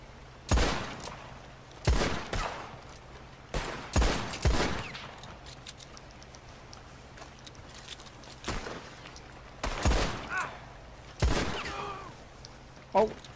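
Gunshots ring out during free-aim shooting practice in Red Dead Redemption 2 Online, sharp single cracks spaced a second or two apart, loud and close, with a few quicker doubled shots and quiet talk between them.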